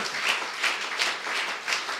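A church congregation applauds during a Spanish-language service, giving dense, continuous clapping that swells in a few pulses over two seconds with no speech on top.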